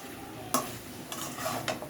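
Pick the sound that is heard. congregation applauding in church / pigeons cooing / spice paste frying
spice paste frying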